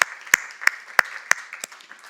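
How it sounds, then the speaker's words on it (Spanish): A congregation at a Spanish-language church discipleship class claps in a slow, even rhythm, about six distinct close claps spaced roughly a third of a second apart, fairly loud and standing alone. "De los aplausos al Señor, claro que sí."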